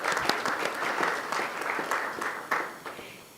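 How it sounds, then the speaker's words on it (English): Meeting participants at a regional prosecutors' gathering on human trafficking give a round of applause, many hands clapping steadily for a few seconds before the sound thins and fades out. "the participants would like to give you a big round of applause"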